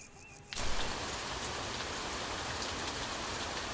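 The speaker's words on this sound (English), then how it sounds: "Why is it raining?" Steady video game rain begins abruptly and pours down evenly in a dense hiss, with no voices.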